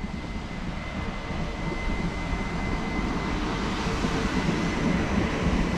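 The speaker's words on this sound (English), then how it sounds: "Hydroflex train. There it is. Going all the way around." A Class 769 Hydroflex train passes a platform on the Cotswolds Line, a steady low rumble and engine drone with a faint high whine, moderately loud and continuous, with no talk.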